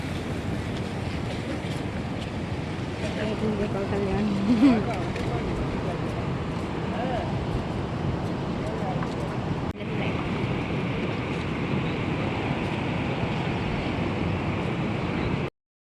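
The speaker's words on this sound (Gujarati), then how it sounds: "તો મિત્રો અત્યારે ફૂલ પાણી નદીમાં આવી ગયું છે." A flooded river rushes below a bridge in heavy rain, a continuous, loud, roaring wash of water and wind noise with no break, while people talk over it.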